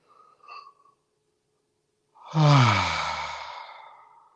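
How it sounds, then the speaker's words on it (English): One deep, audible exhale through an open mouth during a yoga breathing exercise, close and breathy, starting strong and slowly fading over about two seconds after a brief quiet pause. "take a deep inhale through your nose. Open the mouth and exhale."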